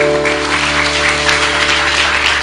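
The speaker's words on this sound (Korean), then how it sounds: "하나님께 영광의 박수" A church congregation at a Korean intergenerational worship service claps together in steady, dense applause, loud and continuous throughout, with a faint sustained tone beneath.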